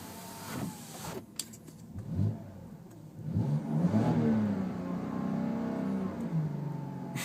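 A 2011 BMW Z4 sDrive30i engine revs up, its exhaust note climbing and holding in a sustained rise after a brief quieter start, heard fairly close.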